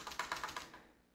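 Quick run of about five crisp computer keyboard keystrokes in an even rhythm, close and clear, then trailing off into quiet.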